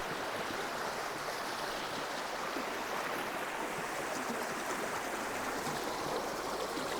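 A small stream flows through Belgian woodland, a steady, soft rushing and trickling of water that fills the scene evenly without pauses, with no voices.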